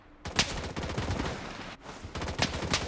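Rapid automatic gunfire from the Blood Strike shooter game comes in dense, close bursts of sharp cracks with short gaps between volleys, and no voice is heard.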